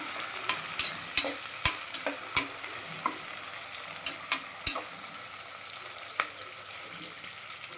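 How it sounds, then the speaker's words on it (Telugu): Onions frying in a pan, a steady high sizzle broken by sharp, irregular clinks and scrapes of a spoon stirring against the metal, close and fairly quiet with no voices. "ఆనియన్స్ అండి ఆనియన్స్ బాగా వేగాలి"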